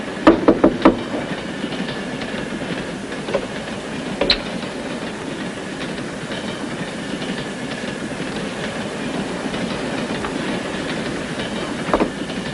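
A train rolls steadily along the rails with a continuous rumbling roar, a few sharp clacks near the start and occasional metallic knocks.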